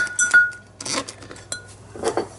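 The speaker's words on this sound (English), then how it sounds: "I'm going to add my little weights" Small weights set down on packed cabbage in a sauerkraut crock, a few close, bright clinks and knocks of glass or ceramic in an irregular sequence.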